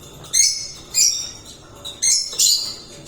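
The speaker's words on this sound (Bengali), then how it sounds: "আরও আছে অনেক পাখি এখানে আছে" Sharp, shrill calls of caged lovebirds at a bird breeding farm burst out in short bursts, four or five loud squawking chirps at uneven intervals, close by with little else around.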